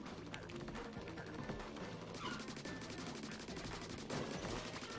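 Rapid, continuous weapon fire from the Splatoon 2 video game on Nintendo Switch rattles steadily through the stretch amid dense game effects, with the shots running together at an even, moderate level.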